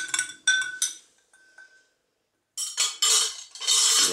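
Metal spoon clinks against a glass while a rum cocktail is stirred, a few bright rapid taps, a short pause, then a denser run of clinking and rattling.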